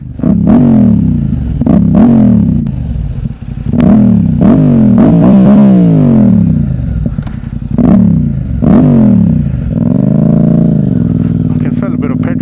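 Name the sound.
Yamaha XSR700 motorcycle engine and exhaust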